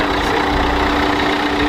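A 2000s Suzuki Swift with a 1.3-litre turbo diesel engine and five-speed manual gearbox idles steadily up close, a continuous loud low rumble with a constant hum and no other sounds.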